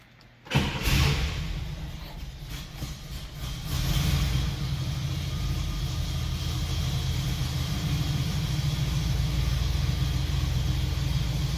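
A 1966 Oldsmobile Toronado cranks and catches almost instantly, then settles into a loud, steady rumbling idle that continues close by without talk.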